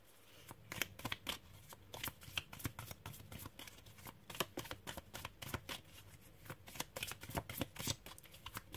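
Tarot cards are shuffled close by in a quick, continuous riffle of crisp flicks and soft slaps, keeping an even, busy rhythm throughout.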